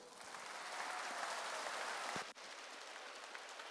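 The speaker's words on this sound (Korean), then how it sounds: "하나님께 박수 칩시다." Applause from a church congregation at a Korean sermon service, a broad steady wash of clapping filling the room, then cutting off sharply near the end.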